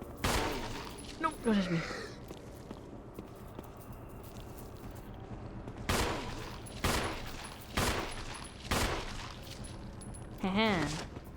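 Gunshots in Resident Evil 1, a scattered series of sharp reports, two early then a rapid run of four or five near the end, with game sounds and a voice speaking in between.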